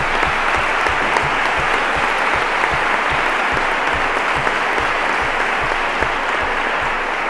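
A large audience claps steadily at a formal ceremony in Cádiz, a dense, even wash of applause that holds at full strength throughout without any voices.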